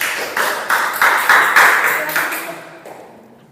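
Applause for a student group at the close of their presentation on a donut business, a series of bursts of clapping from a room of listeners that swell and then fade away.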